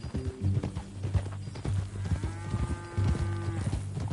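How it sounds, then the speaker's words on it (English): Horse hooves clip-clop at a steady walking rhythm in Red Dead Redemption 2, close and distinct, with soft tonal game ambience underneath. "That a new horse?"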